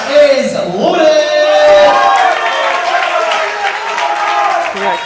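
Crowd at a powerlifting meet cheering and shouting in support as a lifter makes his final bench press attempt, a steady loud roar of many voices with rising yells throughout.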